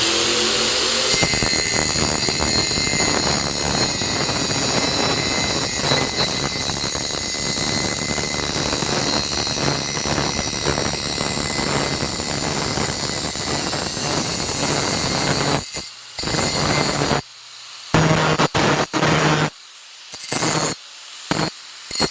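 A cutting disk slicing through a piece of metal clamped in a vise gives a loud, steady, high-pitched grinding whine. Near the end it breaks into short on-and-off bursts with gaps of silence.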